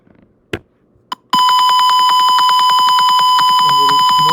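Gas sensor alarm in a circuit simulation triggered by detected smoke: two short clicks, then a loud continuous high-pitched electronic tone with steady rapid pulsing that holds to the end, alone with no talk.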